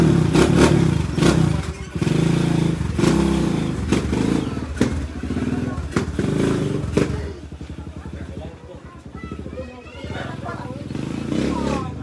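A motorcycle rides along, its engine running loud and close with clatter and revving bursts, under steady overlapping voices of people talking nearby.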